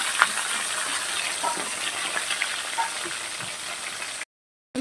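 Pomfret fish frying in hot oil gives a steady, fairly loud sizzle with scattered small pops and crackles, continuous before cutting briefly to silence near the end.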